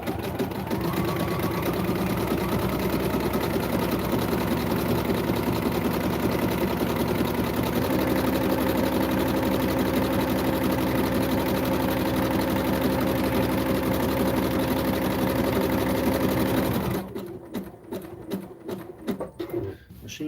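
A sewing machine stitches wrestling tights in a steady, continuous mechanical whir, close and loud, running on for about seventeen seconds before stopping, followed by a few scattered handling clicks.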